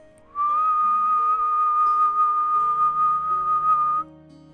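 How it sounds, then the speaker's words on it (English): A low, piercingly sweet whistle: one sustained steady tone held for about four seconds, clear and prominent over a faint musical background. "let out a low whistle,"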